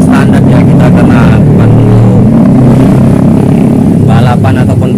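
A 2004 Honda Supra Fit motorcycle with its stock engine drones loudly and continuously at close range, a rough, steady roar that swells slightly without pausing.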